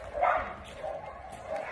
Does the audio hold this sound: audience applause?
no